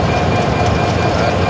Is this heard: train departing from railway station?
yes